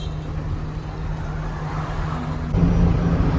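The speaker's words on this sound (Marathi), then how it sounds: "रविवारच असतंय ना भयान ट्रॅफिक आहे" Heavy Sunday road traffic on a city road near a bridge makes a continuous low engine rumble and steady roadway drone that thickens slightly near the end, with no voices.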